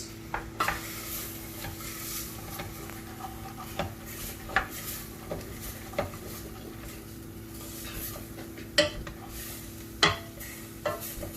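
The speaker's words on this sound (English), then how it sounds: "we're going to give that a really good stir around" Browning food stirred around in a pan with a utensil, scraping and clinking against the metal over a low, steady sizzle, with sharper knocks at irregular intervals.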